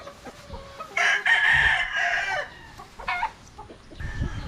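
A rooster at a game farm crows once loudly and nearby, followed by shorter clucks and calls, with faint background sounds around it.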